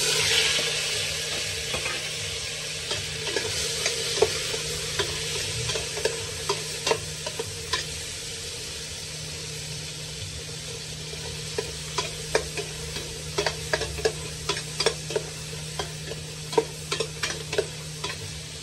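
Garlic, onion and tomato sauté together in hot oil, giving a steady close sizzle broken by frequent scraping and stirring clicks from a spatula in the pan.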